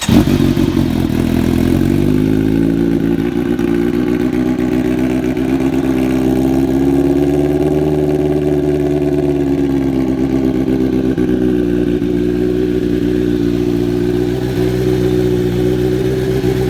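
A 2017 Kawasaki Z900 with Arrow (Aero) headers and an SC Project S1 exhaust idles steadily up close, a loud, even engine note with slight swells in pitch throughout and no talking.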